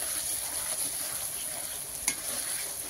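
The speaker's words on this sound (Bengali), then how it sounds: "মশলা কষানো চলছে, আর উনুনও সেরকম চলছে।" Spices sautéing in oil on a stove for a chicken liver, skin and gizzard curry: a steady, close, hissing sizzle with one sharp clink of a utensil near the end, and no talking.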